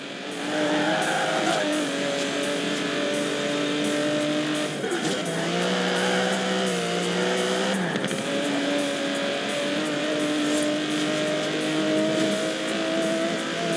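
An Aston Martin DB11 with a 5.2-litre twin-turbo V12 drives past continuously, its engine note loud and steady with a pitch dip and rise midway as it shifts, alone without talk.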